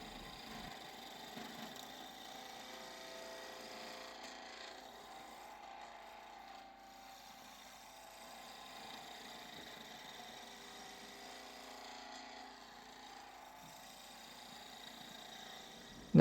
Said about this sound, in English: Here's that glossy last cut with the skew I was talking about.